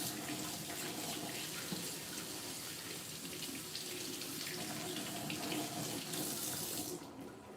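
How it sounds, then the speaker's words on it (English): Hands are rinsed under a running kitchen tap while making langos, a steady close rush of water that runs for about seven seconds before cutting off near the end. No voices. "Just let me rinse my hands off here for a second."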